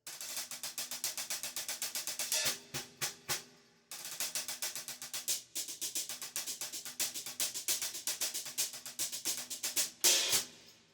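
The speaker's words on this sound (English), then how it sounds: "So they're a little bit darker, they have a little bit more spread to them, they're a little bit softer." Pair of 18-inch HH hammered Plague Hat hi-hat cymbals played in a steady rhythmic groove, darker and softer with wide spread, close and clear with no talking, a brief break near four seconds.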